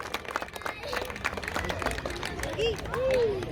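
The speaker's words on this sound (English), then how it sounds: "Please give a huge round of applause" Audience at the IAM Sports Day 2022 event in Mexico claps in a scattered, rising burst of applause with crowd chatter mixed in, moderately loud and close, with a few whistles near the end.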